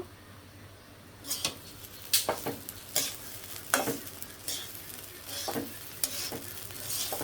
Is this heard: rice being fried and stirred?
yes